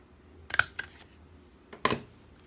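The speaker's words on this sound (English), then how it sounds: "Staple your thank you sign to another end." Two quick mechanical clacks a second apart, a stapler punching through a paper sign and note card, with softer rustling around them in a quiet room.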